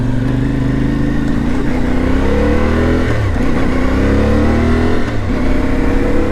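An Ibex 450 motorcycle engine, fitted with a 15-tooth sprocket and other modifications, accelerates on a commute, a loud close drone rising in pitch through gear changes with brief dips at each shift, no talk.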